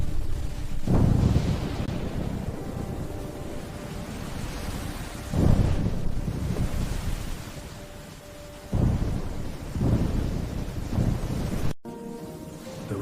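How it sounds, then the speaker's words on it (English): Heavy, relentless rain pours down as a dense, loud roar, surging in several gusty swells with low rumbling, and nobody speaks. "The rain is relentless today."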